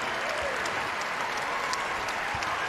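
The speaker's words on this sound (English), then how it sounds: "they stand and applaud one final time for UConn seniors" The crowd at a UConn women's basketball home game against Providence gives a sustained round of applause for the seniors. Continuous clapping and cheering fill the arena from start to finish.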